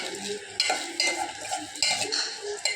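A spoon stirs and mixes onion rice in a pot, giving repeated scraping, clinking strokes at a steady rhythm, close and moderately loud with no talking.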